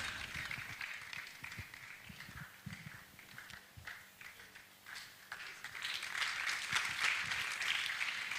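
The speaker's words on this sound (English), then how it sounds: "Thank you for clapping for me." An audience applauds a professor welcomed onto the stage at a cultural event, scattered claps building into fuller, louder clapping toward the end, with occasional voices underneath.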